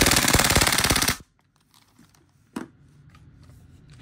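A WE R5C V3 gas blowback airsoft rifle fires a rapid full-auto burst of sharp, closely spaced cracks for about a second, then goes quiet apart from a single later click.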